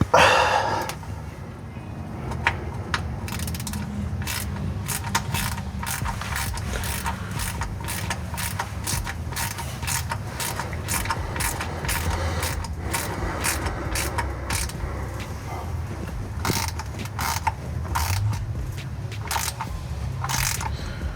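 A hand ratchet clicks in repeated bursts while tightening a worm drive gearbox plug on a vehicle, with dense, close, mechanical ticking running the whole time and pausing briefly between strokes.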